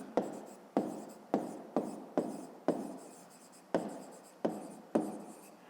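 Pen writing by hand in a school exercise book, nine sharp evenly spaced scratching strokes close up, each starting with a tap and trailing off, no voices.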